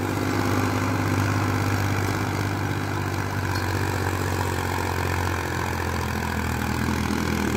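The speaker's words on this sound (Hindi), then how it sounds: "चाल देखो ट्रैक्टर की चाल" An old 1999-model tractor engine runs steadily, with a loud, continuous low diesel rumble that stays even throughout and has no talk over it.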